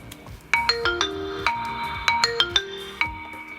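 A lost phone rings via a remote play-sound feature, a bright chiming ringtone melody of repeated bell-like notes, close and clear with no talking.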